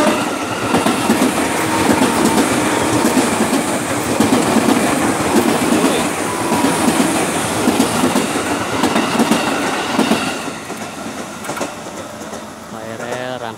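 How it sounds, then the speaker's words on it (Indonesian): A KRL commuter train on the Rangkasbitung–Tanah Abang line speeds along straight double track east of Citeras station, a loud, steady rumble and wheel clatter close by that eases off toward the end. "KRL tujuan Tanah Abang."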